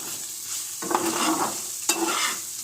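Sugar stirred into dry fruits frying in ghee in a pan, a soft steady sizzle with two sharp scraping stirs and brief bursts of hissing, close and alone.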